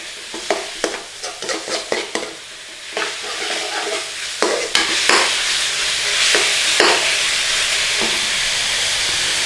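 Methi and onions frying in a pan for a chicken rogan josh, with loud close sizzling and hissing steam, a run of quick stirring scrapes at the start, then a steadier, swelling sizzle broken by occasional clatters.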